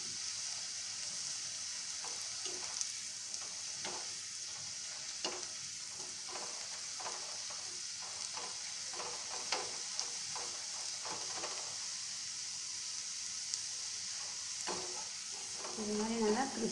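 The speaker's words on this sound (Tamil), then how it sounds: "ஃப்ரை பண்ணுறப்பவே உங்களுக்கு அந்த சவுண்டு கேட்குது" Bitter gourd chips fry in hot oil with a constant bright sizzle, close and steady, while occasional stirring adds soft scraping clicks throughout.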